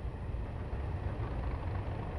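A Voyager diesel train engine in Train Simulator runs alone with a steady low rumble, a continuous even drone with no other sounds over it.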